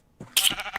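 A single short sheep bleat from the Minecraft video game, a bright wavering call lasting under a second, close and clear with nothing else around it.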